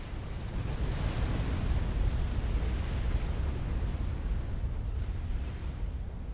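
A nuclear strike detonates in Supreme Commander: Forged Alliance Forever, producing a deep, rolling low-frequency rumble that stays heavy and sustained across the whole stretch with no talk over it.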